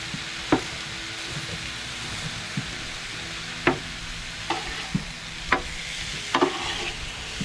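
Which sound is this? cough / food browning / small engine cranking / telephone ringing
food browning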